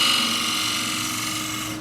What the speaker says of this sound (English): Now I can do that with a square end scraper here